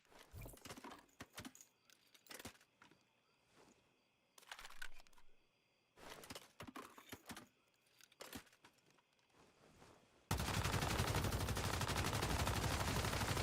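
Dual LMG machine gun fire in the video game Once Human comes in rapid bursts separated by short pauses, then gives way to a dense, continuous roar of sustained fire over the final few seconds.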